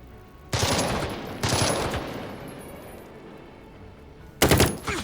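Gunfire in Jagged Alliance 3 comes as three bursts of loud close shots, the first two about a second apart, each leaving a decaying rumble behind it, then a short gap and a final sharp volley.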